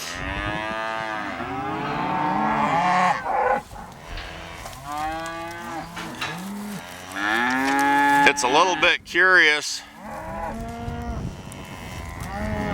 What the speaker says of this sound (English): that these cows are raising such a ruckus